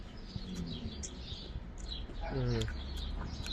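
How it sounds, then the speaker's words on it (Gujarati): Outdoor birdsong in Auckland, New Zealand: faint chirps and tweets scattered through a quiet background, with a low voice-like sound partly overlapping. "એટલો મસ્ત પક્ષીઓનો અવાજ આવે છે"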